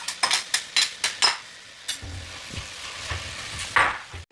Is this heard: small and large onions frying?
yes